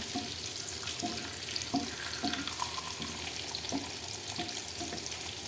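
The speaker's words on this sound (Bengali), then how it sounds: "এখন ডিমেরগুলো সুন্দর করে আমি ফ্রাই করে নেব" Peeled boiled eggs frying in a pan for a home biryani: a continuous watery sizzle with soft scraping and stirring taps, close and moderately loud, no voices.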